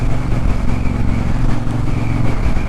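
A Triumph Bonneville Bobber motorcycle being ridden on a cold February road toward the coast, with a loud, steady engine drone and rushing wind that hold constant throughout.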